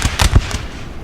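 Musket volleys in the Napoleonic battle game Napoleon Total War, several loud overlapping cracks in a quick ragged burst, close and sharp, fading into rumbling battle noise.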